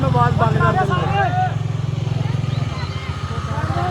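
A generator runs at a street procession, giving a steady, loud low engine drone that continues throughout beneath a voice and background voices.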